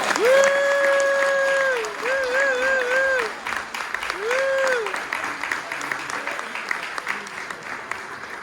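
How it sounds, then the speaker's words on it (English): After a student performance about mental health, an audience applauds for Janet. Clapping runs under a sustained, wavering high-pitched vocal tone or whistle, then settles and dies away into scattered claps. "Can we give Janet a round of applause?"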